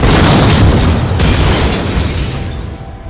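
A loud explosion from The Boys, a massive booming blast with a dense rumbling roar that fills the space and slowly fades over a few seconds.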